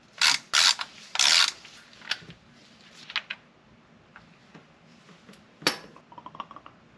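Ratchet wrench working the oil filter housing on a BMW X5 E70 during an oil change, making bursts of clicking and metallic clinks, close and intermittent, with quiet pauses between and no talk.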